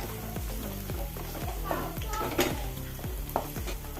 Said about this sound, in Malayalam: എണ്ണ ഒഴിച്ച് കൊടുക്കുക ഇളക്കിക്കൊണ്ടേയിരിക്കുക വാടുന്നവരെ